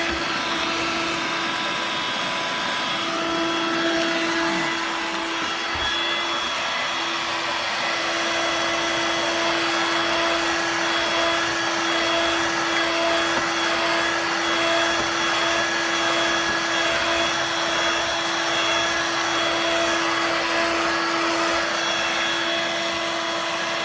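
A Dirt Devil Vibe 3-in-1 lightweight corded stick vacuum cleaner runs continuously on carpet, a steady close whirring motor with a sustained high whine and no pauses.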